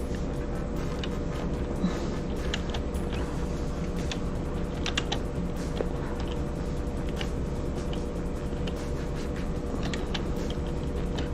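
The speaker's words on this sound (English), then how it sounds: "And I'm typing in Iron Man with his visor up." Typing on a computer keyboard: soft, fast key clicks in an irregular run, close but fairly faint over a steady low background hum, with no talking.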